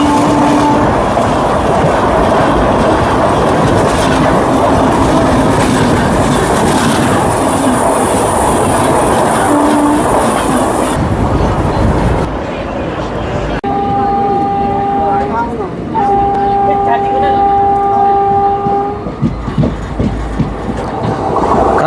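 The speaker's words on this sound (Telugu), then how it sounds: "మడార్ తిరుపతి స్పెషల్ ట్రైన్" A Madar–Tirupati special train roars past at Jadcherla station, loud wheel clatter and rushing noise dominating before the sound drops away, then a steady horn-like tone and voices of people talking nearby.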